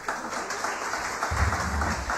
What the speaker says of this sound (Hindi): भाई के लिए तालियां।